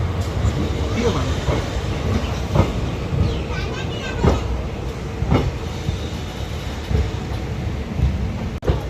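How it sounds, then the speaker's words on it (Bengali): Teesta Torsa Express (13141 Up) pulling out of platform 13 at Sealdah, bound for New Jalpaiguri: a steady rolling rumble with periodic rail clacks, heard close from on board, with faint voices underneath. "ঠিক দুপুর 3টে ট্রেন আমাদের ছেড়ে দিল শিয়ালদার 13 নম্বর প্ল্যাটফর্ম থেকে নিউ জলপাইগুড়ির উদ্দেশ্যে"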